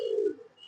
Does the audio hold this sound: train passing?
no